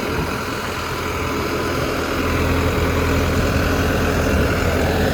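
A Landini Rex 100GE tractor drives a 35 kW generator through its PTO. The engine runs with a steady, loud, low droning hum and no break or change in pace.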